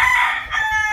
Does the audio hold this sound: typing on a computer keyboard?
no